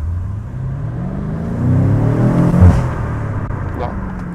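A 2018 BMW M5 with a 4.4-litre V8 accelerating, its engine note rising in pitch from a low rumble to a louder swell at mid-clip before easing off, heard from inside the car.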